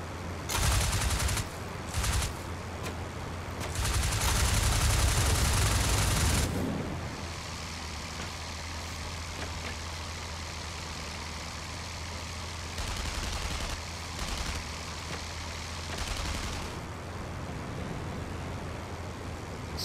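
Anti-aircraft fire in the IL-2 Flying Circus flight game rattles as dense, loud bursts of flak and gunfire over a steady aircraft engine drone, easing into a continuous engine hum with occasional weaker bursts.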